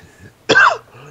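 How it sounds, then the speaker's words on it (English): A single short, sharp cough, close and loud, standing out briefly against near silence. "I just had to get a cough out"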